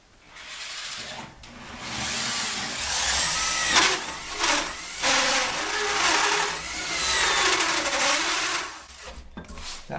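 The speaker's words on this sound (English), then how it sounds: "I've just drilled as far as it'll go this way" A power drill bores through the metal plate of a door while a deadbolt is installed, whining steadily and loudly for most of the stretch with brief dips where the bit eases off.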